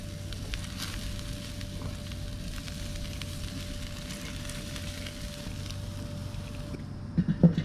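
Thick amberjack pieces charring on a grill, a steady dense sizzle with a constant low hum underneath, followed by a few soft knocks right at the end.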